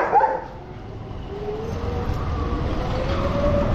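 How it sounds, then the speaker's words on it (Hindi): Dogs bark and yip while chasing an electric scooter down an unfamiliar street at night, with a few sharp barks over the steady hum and rush of the ride. "अनजान गली में जाओ तो कुत्ते बाइक के पीछे ऐसे पड़ते हैं"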